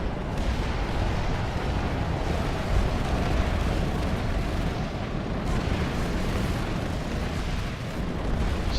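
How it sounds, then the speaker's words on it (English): Rockets exploding across a Planetside 2 battlefield, a continuous dense barrage of booms and gunfire that stays loud and steady from start to finish, with no voices. "He's getting nailed by rockets there."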